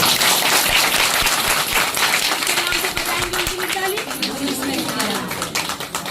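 A church congregation at a Christian worship gathering claps loudly and continuously, many hands beating in a dense rhythmic patter, while a voice talks over it.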